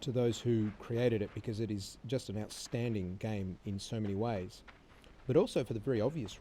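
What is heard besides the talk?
No everyday noises stand out.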